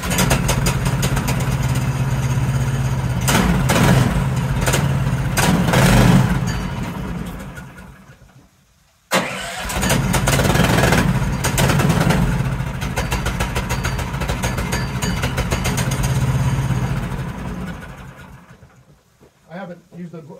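A chainsaw bucks the first cut into a large log of about 2,000 pounds, engine running loud and steady with a brief drop in the middle, then revving back up and winding down near the end.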